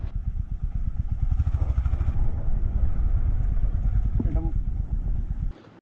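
A motorcycle on a road trip rides through a village lane, its engine chugging in a rapid steady beat close by, a brief voice in the middle, before the engine cuts off at the end.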